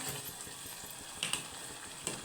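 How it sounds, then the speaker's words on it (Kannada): Water hits a hot pan of cooking capsicum and sizzles, a bright crackling hiss with a couple of sharper spits and clinks. "ನಾನು ಸ್ವಲ್ಪ ನೀರು ಸೇರಿಸ್ತಾ ಇದ್ದೀನಿ"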